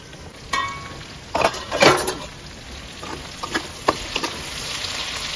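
Chicken meat half-frying in a pan for a pineapple chicken dish: a steady sizzle broken by several sharp stirring scrapes and metal clinks from a utensil against the pan, close and moderately loud.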